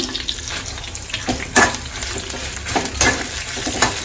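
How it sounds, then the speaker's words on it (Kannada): Coconut, urad dal and fenugreek frying in a pan with a steady close sizzle, broken by a few sharper stirring scrapes and clinks around the middle and end. "ಕೊಬ್ಬರಿ ಉದ್ದು ಮತ್ತು ಮೆಂತ್ಯನ ಒಟ್ಟಿಗೆ ಹಾಕಿ ಸ್ವಲ್ಪ ಫ್ರೈ ಮಾಡ್ಕೊತಿದ್ದಾಳೆ"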